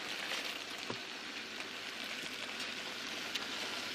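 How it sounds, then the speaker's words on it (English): Steady rain falling in Portland, a continuous soft hiss of drops on surfaces with no talk, plus a couple of brief louder drips or taps. "More than 200 days out of the year, it's raining in Portland."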